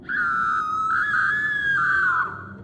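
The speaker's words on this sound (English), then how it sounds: "A scream broke through the darkness that turned my blood to ice." A woman's long, high scream rings out in a horror story set on a dark dirt path near a farm. It is one sustained shrill cry lasting about two seconds that wavers slightly in pitch, loud and close, with no talk over it.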